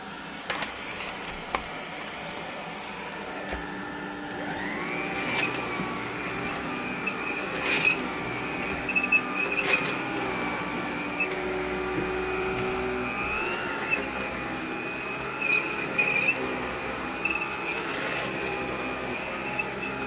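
A 1973 Electrolux canister vacuum cleaner runs steadily and fairly loud for the whole stretch, its whine wavering slightly in pitch, with no talking over it.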